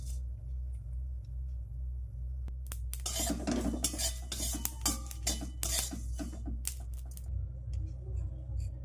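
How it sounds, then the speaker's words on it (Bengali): Whole spices being dry-fried in a kadai on a gas stove, with a spoon clattering and scraping against the metal in a busy burst of stirring over a low steady hum, nearby and moderately quiet. "মশলাগুলো একটু ভেজে নেব"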